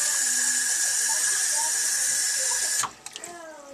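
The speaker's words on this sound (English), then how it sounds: "I'm gonna fill this cup." Water runs steadily from a tap into a cup for nearly three seconds, loud and close, then stops, followed by a few small clinks and knocks.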